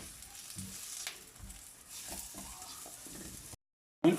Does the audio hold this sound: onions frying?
yes